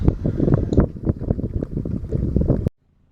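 A gas outboard motor drives a fishing boat at a slow trolling speed on Pomme de Terre Lake. Its loud, rough, wind-buffeted drone runs close to the microphone and then cuts off abruptly into near silence.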